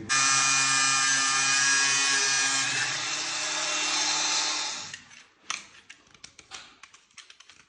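A power tool grinds ceramic tile in a shower area being renovated, a loud, steady whine for about five seconds before it stops, followed by scattered scraping and tapping.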